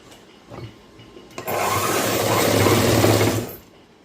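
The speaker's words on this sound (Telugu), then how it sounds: "ఇటు సైడ్ ఈ విధంగా ఇట్లా కుట్టేసి తర్వాత మీకు చూపిస్తాను" A sewing machine stitches a boys' school uniform shirt: a brief whir, then a steady close run of rapid mechanical stitching for about two seconds before it stops, with no talk.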